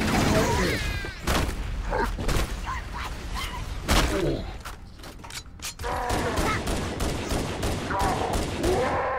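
Rapid bursts of gunfire from the Halo video game, loud and dense, with repeated sharp shots and explosive thuds across the whole span, a brief lull near the middle before the firing resumes.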